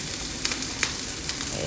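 A generous heap of onions fries in a lightly oiled pan for a gravy, giving a dense, continuous sizzle with a few sharp crackles and pops, close and loud.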